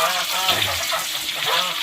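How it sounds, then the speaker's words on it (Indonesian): Water is poured into a pan while instant noodles with Japanese pumpkin and chopped chilies are cooked outdoors, a steady, loud gushing splash that fills the whole moment without talk. "Kita tambah airnya secukupnya."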